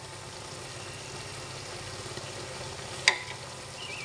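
Chalta pickle cooking in a pan over a medium flame as black salt goes in, with a constant soft sizzle close by and one brief sharp clink.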